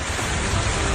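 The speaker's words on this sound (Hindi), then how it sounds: "पहाड़ों पर बारिश अब भी आफत बनकर बरस रही है" Heavy rain pouring in the mountains, a steady dense hiss of falling water with a low rumbling undertone throughout, loud and continuous with no pauses.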